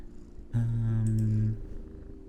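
A small cat purrs for about a second, a soft, low rumbling hum that sits above a quiet background.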